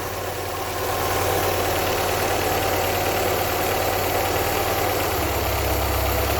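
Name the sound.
restored car engine idling, idle speed being adjusted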